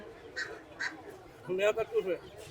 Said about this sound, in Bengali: এই যে এখানে দেখতে পাচ্ছি হাঁসের বাচ্চা